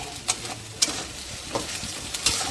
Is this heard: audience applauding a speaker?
no